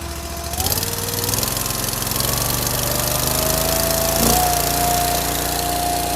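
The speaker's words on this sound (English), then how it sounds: "it has to build enough head pressure, so you need the engine at complete throttle, full throttle" The engine of a Cord King Repeater 29 firewood processor starts and climbs to full throttle. It holds a loud, steady mechanical roar with a rising whine and no talk.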